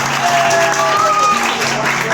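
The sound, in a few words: loud applause from school audience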